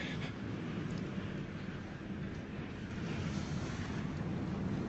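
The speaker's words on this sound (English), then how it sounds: "the raging ocean" Raging ocean waves during Hurricane Dorian, a continuous loud roar of surf with wind buffeting the microphone, steady and dense throughout.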